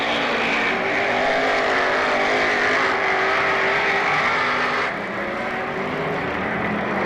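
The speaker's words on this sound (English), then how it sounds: "Looks like he just got the car fired up now." A race car engine runs at Penn Can Speedway during a 1995 race, a loud, sustained mechanical roar with a steady drone and slight shifts in pitch, heard without talking.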